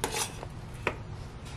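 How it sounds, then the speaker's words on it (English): Close scraping and clinking of a utensil against a bowl as salty Spanish rice is spooned in with vegetables, in a few brief strokes and one sharper tap, quiet and free of talk. "let's take the rice and let's put it in the bowl with the vegetables"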